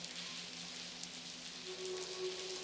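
Heavy rain in the adventure game Blackwell Convergence, a steady dense hiss of downpour with a faint low tone underneath, continuous throughout with no voices.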